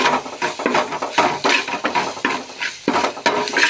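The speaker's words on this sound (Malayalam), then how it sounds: "എന്നിട്ട് ഒക്കെ കൂടി ഒന്ന് ഇളക്കട്ടെ" Ladle stirring a papaya stir-fry with crushed chili in a pan, giving a steady run of scraping, rustling strokes close up, with no talk.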